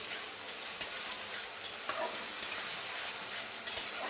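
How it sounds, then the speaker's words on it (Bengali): Masala with ginger-garlic paste and green chillies stir-fried for a chicken curry, a steady close sizzle broken by a few sharp scrapes of the spoon against the pan. "ভালো করে মশলাটা কষতে হবে।"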